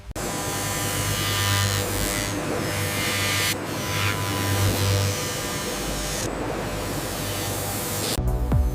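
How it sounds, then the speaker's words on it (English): A robotic arm polishes a titanium iPhone frame with polishing compound, giving off a steady buzzing machine whir with a low hum beneath, broken by brief dips and a short pause near the end. "the robotic arm applies a specialized polishing compound to the titanium frame"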